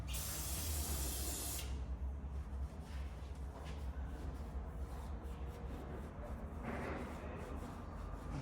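Silicone sprays from a can in a sharp, close hiss that lasts under two seconds during a workshop repair on a Hyundai iLoad sway bar mount. A shorter, fainter burst follows later over a low workshop background.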